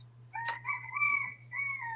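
A rooster crows loudly and close by, one long drawn-out call with a sharp start and a wavering tail, over a steady low hum and without any talk.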